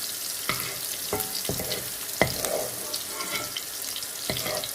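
Green peas fry in hot oil for a vegetable korma, a soft steady sizzle broken by a few crisp pops and stirring clicks, close and fairly quiet.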